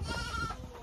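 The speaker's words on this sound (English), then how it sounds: "This is no ordinary goat pen. It's all of these goats" Goats in a pen bleating, a short nasal wavering cry close by, fairly quiet and heard alone.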